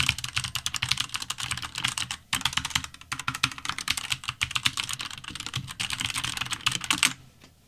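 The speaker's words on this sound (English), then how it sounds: "So I'm just gonna run through the keyboard and see how they sound in typing, right?" Continuous typing on a portable Newman computer keyboard, a steady rapid patter of key presses with brief pauses near the two- and three-second marks and a stop just before the end, close and alone with no talking.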